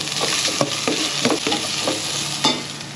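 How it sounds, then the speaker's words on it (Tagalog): Garlic and aromatics sauté in hot cooking oil, sizzling steadily while a utensil scrapes and clatters against the pan in quick irregular strokes. The sound is close and nobody talks. "Magigisa na po tayo"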